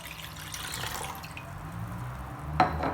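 Vinegar is poured into a pot of water, a quiet steady trickling splash close by, ending with a small clink near the end.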